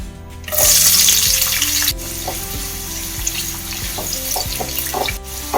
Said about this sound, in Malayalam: നല്ല പിന്നായിട്ട് അരിഞ്ഞ് വെച്ച സവാള നമുക്ക് ഇടാം